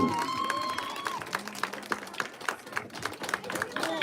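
Loud applause from the crowd for the bronze league winners at the UNDERHILL CUP awards ceremony: steady, dense clapping with sharp claps throughout, and faint voices and tones underneath.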